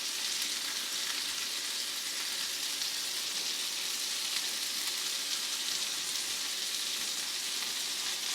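Jalapeño peppers sizzle steadily on a hot griddle while being flipped for a taco burger, a dense, continuous hiss with no talking.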